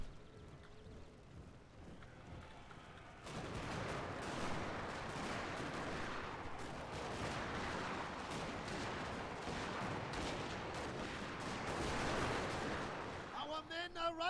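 Massed shotgun volleys in the Total War Shogun II video game, a dense, continuous roar of crackling gunfire that swells suddenly and holds steady for several seconds, with faint voices underneath.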